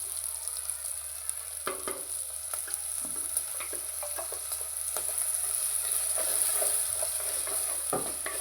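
Beetroot and carrot paste with ginger and garlic frying in oil in a pan, a steady sizzle broken by scrapes and knocks as it is stirred, close and alone.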